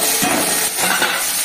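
Bitter gourd pieces fry in hot oil with salt and turmeric, a loud, close sizzle broken by brief stirring scrapes in the pan.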